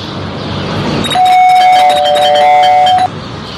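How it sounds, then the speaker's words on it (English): A doorbell rings in the video game Scary Teacher 3D, a loud, clear electronic chime with sustained bell-like tones lasting about two seconds over low background noise. "There goes that stupid bell again."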